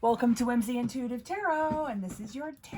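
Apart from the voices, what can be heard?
None of the usual background noises is heard.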